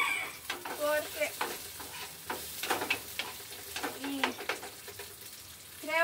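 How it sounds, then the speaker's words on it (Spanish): Tomato frying in a pot gives a steady crackling sizzle, broken by scraping stirring sounds, while a person speaks over it. "Vamos a dejar que se fría bien el tomate"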